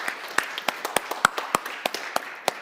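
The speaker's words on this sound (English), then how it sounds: "I think let's give an applause." Scattered clapping from a small conference audience, a dozen or so distinct, separate claps at close range with no voices.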